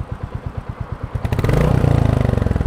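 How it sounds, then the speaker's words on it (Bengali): A Royal Enfield Bullet 350 motorcycle engine close by, first a slow, even thumping idle, then revving up into a loud, rapid, rattling beat that holds to the end. "রয়্যাল এনফিল্ডের সবচাইতে সুন্দরতম আওয়াজ হইলে গিয়ে বুলেটে"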